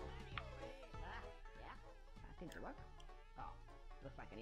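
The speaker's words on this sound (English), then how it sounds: "I freaking hate these bees" Buzzing insects, bees in the video game Conker's Bad Fur Day, hum steadily under someone talking over game music, their drone rising and falling close by.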